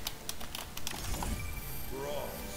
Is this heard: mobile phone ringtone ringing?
no